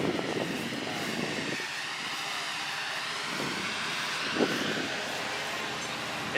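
A numbers-matching 1970 Pontiac GTO Judge with a Pontiac 400 Ram Air 3 engine idles steadily nearby, a continuous low rumble with faint rustling on top.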